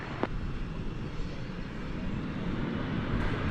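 Jet aircraft at DFW Airport, including an Embraer E-jet, a low distant engine rumble that swells slightly over a few seconds, with a brief sharp click near the start.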